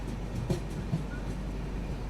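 The Sarnath Express stands halted at Tilda Neora railway station, a steady low rumble of the stationary train with a couple of faint knocks and clanks, no voices.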